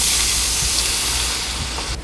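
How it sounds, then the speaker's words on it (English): Steam hisses steadily from under the lid of a Cuisinel cast iron skillet, a loud, continuous broadband rush that stays even and ends abruptly. "if you guys want to let out a little bit of steam, you can definitely turn it like this. So that way the steam can come out."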